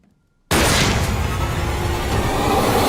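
A gunshot in a horror movie scene fires abruptly after a brief silence, a loud booming blast whose dense rumble and reverberation carry on without fading for over two seconds.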